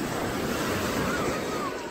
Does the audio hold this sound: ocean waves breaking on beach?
yes